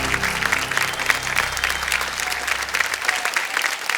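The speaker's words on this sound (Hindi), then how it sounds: "ताली बच्चा एक बार जोर से।" Studio audience on the Kaun Banega Crorepati quiz show bursts into loud, sustained applause, dense clapping filling the room for a few seconds before thinning out toward the end.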